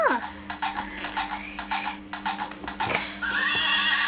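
A toy horse plays a recorded neigh and galloping hoofbeats, fairly loud and close, with brief background voices around it.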